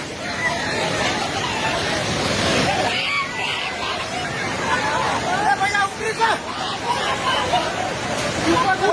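A flooding river in Nepal rushes by with a broad, steady roar, while several people talk and exclaim over it throughout.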